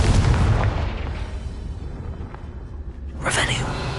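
A Confringo fire spell explodes in Hogwarts Legacy: a deep rumbling boom opens, then a sharp bright blast bursts near the end, with a voice calling out over it.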